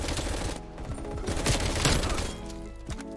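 FARA 83 rifle firing in Black Ops Cold War, loud sustained automatic bursts up close with short gaps, layered over game music and effects.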